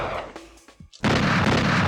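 Two gunshots in the PlayStation 1 game Hellboy: Asylum Seeker: a short quiet stretch with faint clicks, then a loud, sharp blast followed by sustained booming noise.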